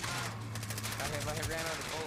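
Rapid automatic gunfire in Call of Duty gameplay, a dense, continuous rattle of shots heard over game sounds, with talk in the background.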